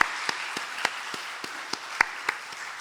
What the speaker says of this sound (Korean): 우리 최현정 권사님께 또 박수 또 올려드리도록 하겠습니다.